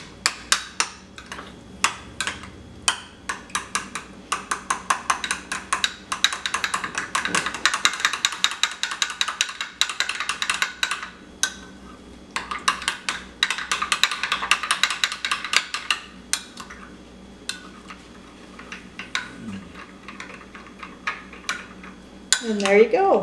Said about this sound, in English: And then just stir that up till it's nice and mixed up.